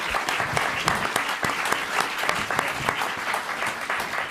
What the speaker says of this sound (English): can we join me in a round of applause for our amazing panelists?